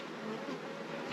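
Honeybees hum steadily at an open beehive fitted with a metal queen excluder grid, a dense continuous close-up drone filling the whole moment without pause.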